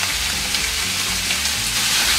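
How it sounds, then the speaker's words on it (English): Seafood sizzles loudly in a hot pan with a little oil for a teriyaki stir fry: a dense, continuous frying hiss, close and steady throughout, with no voices. "Got a hot pan with a little bit of oil in here. Put the seafood right in there."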